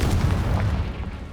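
A Confringo fire spell explodes in Hogwarts Legacy, a dense, loud, low booming burst that fills the whole moment with rumbling noise.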